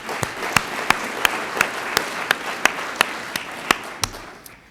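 A room of attendees at a city's State of the City address applauds the city staff, with a steady wash of clapping and sharp, evenly spaced loud claps standing out every third of a second.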